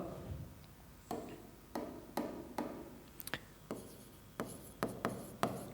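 Chalk or marker writing on a board during a Class 10 science lesson on refraction, heard as a series of sharp taps and scratchy strokes, about ten in irregular rhythm, close and clear with no talk.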